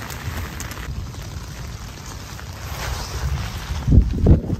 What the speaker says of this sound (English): hello wind. Hello wind.